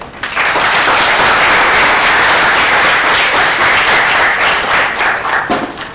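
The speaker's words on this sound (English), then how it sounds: "let's give him a very warm applause." Sustained applause from a large audience at a guest lecture, dense steady clapping that fills the room and begins to thin out near the end.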